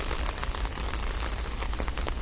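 Heavy rain and gusting wind in a cemetery during a downpour, with steady hissing, dense spatter close by, and no pauses throughout.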